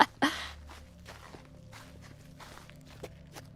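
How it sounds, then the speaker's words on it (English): Footsteps of about ten people walking together through a desert in the game Girls' Frontline 2: Exilium, a soft, quiet, continuous shuffle of overlapping steps after a sharper opening sound, with no talk. "It is the sound of footsteps"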